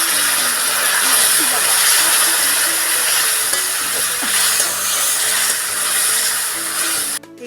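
Water splashed into masala frying in a pan for a Bengali steamed dish with chopped tomato and coriander leaves, giving a loud, steady broadband hiss and sizzle that runs unbroken for about seven seconds before cutting off.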